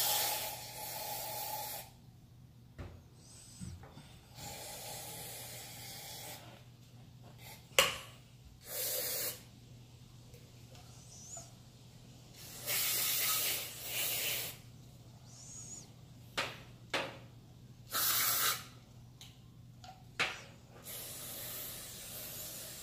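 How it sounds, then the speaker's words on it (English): Cleaner sprays onto a carburetor throttle piston in repeated short hissing bursts, some longer than others, close and loud against a quiet background hum. "Spray the throttle piston off"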